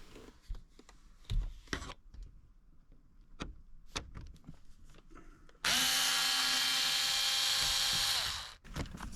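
A power driver backs out the Phillips screws that hold the radio in a BMW E46, giving a steady high whine for about three seconds that winds down at the end, after quieter handling clicks.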